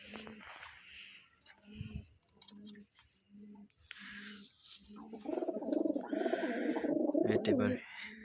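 A white male Rajshahi Giribaz pigeon coos in a series of soft, low, rhythmic calls close by, swelling into a fuller, busier cooing near the end, with faint fluttering and rustling around it.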